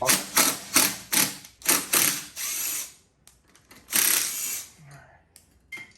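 A ratchet wrench spins a 10mm bolt on a 450 dirt bike exhaust, giving a close run of quick, rhythmic pawl clicks that gives way to a longer grinding ratchet pass, with a short pause in between.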